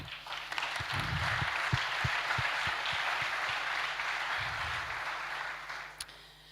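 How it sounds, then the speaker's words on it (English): An audience at an innovation opening ceremony applauds, producing a steady, moderately loud wash of clapping with a few sharper individual claps near the front that fades slightly toward the end. "Applause to you for making it."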